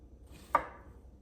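A single sharp knife chop cuts zucchini into thick pieces on a board, one crisp close thud in an otherwise quiet moment.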